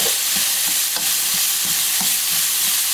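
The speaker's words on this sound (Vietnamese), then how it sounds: "Củ sắn với cà rốt mình sẽ xào nhanh thôi, mình xào sơ để cho nó xìu xìu xuống là được rồi." Jicama and carrot stir-fry in oil with garlic, giving a continuous close hiss of sizzling broken by quick, regular stirring scrapes, with no voices.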